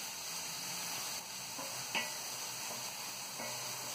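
Beef stroganoff meat frying in a pan, a steady soft sizzle with faint clicks and a light utensil tap, close and quiet throughout.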